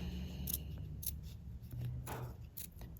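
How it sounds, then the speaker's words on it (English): Scissors trimming close around the edge of a beadwork earring, a few quick, crisp snips about half a second apart, near and clear in a quiet room. "I'm going to follow right along with what I've got there and get this trimmed up"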